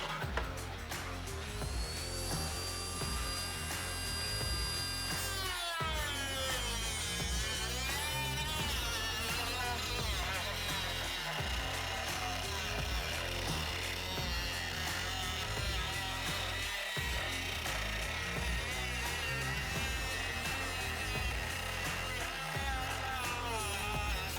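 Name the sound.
Dremel with cutoff wheel cutting plastic Mustang taillight housing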